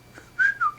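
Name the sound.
person imitating a whistle at a zombie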